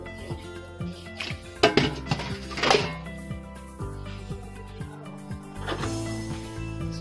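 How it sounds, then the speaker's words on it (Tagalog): Pancit noodles being stirred in a cooking pot, with scattered utensil knocks and metallic clinks against the pot over a steady kitchen background, no talking. "haluin po natin siya hanggang sa kumulo siya"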